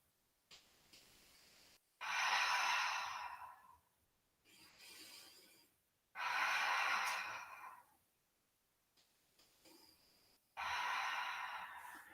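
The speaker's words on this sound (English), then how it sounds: "Close your eyes and take 3 breaths." Slow, deep breaths during a yoga session, three breathy exhales spaced a few seconds apart, each with a softer inhale before it, close and quiet.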